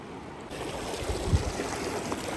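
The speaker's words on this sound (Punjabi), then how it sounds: "ਨਾਲ ਹੀ ਇਹਦੇ ਵਗ ਰਿਹਾ ਸਿੰਧ ਦਰਿਆ" The Indus river flows close by, a steady broadband rush of running water that stays even and continuous throughout, with a slight swell midway and no voices.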